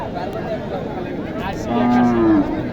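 A large Sahiwal cow moos once, long and low, near the end, over the busy murmur of a crowded cattle market with faint voices in the background.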